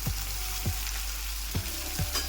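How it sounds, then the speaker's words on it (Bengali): Onions frying in hot oil for chicken bhuna masala give a steady close sizzle, with a few soft stirring knocks of a spoon against the pan and no voices. "এবার পেঁয়াজগুলো আমি ভেজে নেবো"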